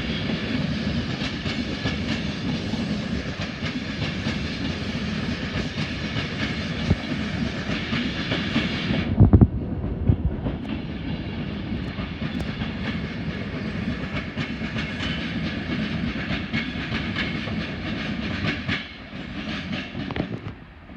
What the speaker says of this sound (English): And what's this I see coming up the line? None other than a freight train.